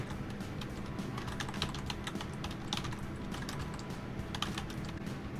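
Rapid, steady computer keyboard typing of a description, keys clacking close and clear in a continuous run.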